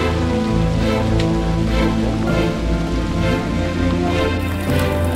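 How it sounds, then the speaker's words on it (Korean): Hail pelts the ground in April during a spring hike on Bukhansan mountain, a loud, dense and continuous patter of countless small impacts with no voices. "일기예보에 우박이 내린다더니 정말 4월에 우박이 내립니다."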